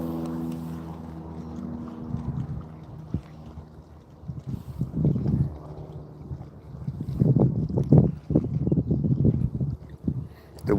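Gusty wind buffets the microphone on a fishing pier, a low rumbling rush that rises and falls in loud bursts, strongest toward the end, with no voices.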